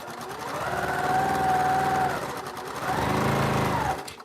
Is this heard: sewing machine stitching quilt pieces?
yes